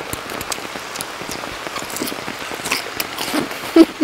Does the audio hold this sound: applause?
no